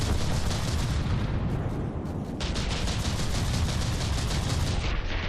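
Dense barrage of mortar and cannon fire in the naval combat game From the Depths, a thick, continuous roar of overlapping booms and rumbling blasts, loud and sustained with no clear gaps.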